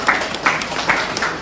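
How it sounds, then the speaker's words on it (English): Audience applause for Trevor, a refrigerated-van volunteer driver, at the opening of Essex County Council's community supermarket in Harlow: a dense, steady burst of clapping from a nearby crowd. "can you give Trevor a round of applause?"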